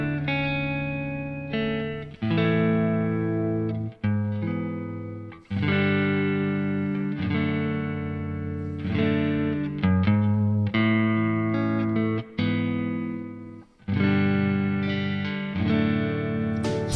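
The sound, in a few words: Fender Stratocaster electric guitar with a little reverb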